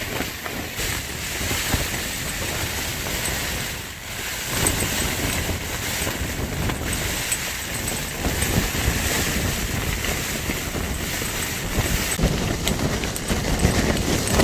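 Strong, gusting wind at a mountain campsite on a stormy night roars and buffets the microphone continuously, surging and easing in waves for the whole stretch with no voices.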